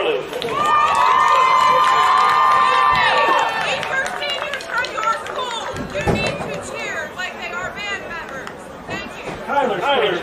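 A high school senior night crowd cheers and claps, with a shrill sustained whistle or shout early on and a steady roar of voices and applause continuing throughout, loud and close.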